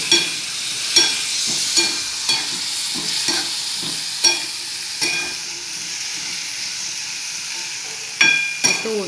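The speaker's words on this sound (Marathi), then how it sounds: "आता हे वाफवलेले हरभरे सगळे टाकून घेते मी।" Steamed chickpeas fry with masala in a pan, sizzling loudly while a spoon stirs and scrapes them in repeated clanks at irregular intervals, close by.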